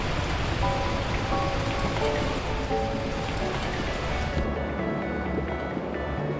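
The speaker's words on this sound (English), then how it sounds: "the heavens opened up, unleashing torrential rain" Torrential rain in a video game, Beacon Pines, pours down steadily, a dense hiss of heavy drops with faint tonal chimes scattered through it.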